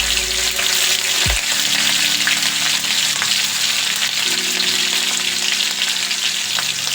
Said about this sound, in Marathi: लसूण आणि मिरची भाजत आहे